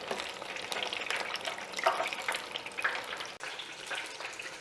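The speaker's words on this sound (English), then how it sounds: "as those fry, just stir them around a little bit so they cook evenly" Beer-battered shrimp deep-fry in oil with a soft, continuous bubbling hiss, and small crackles as the pieces are stirred around, fairly quiet throughout.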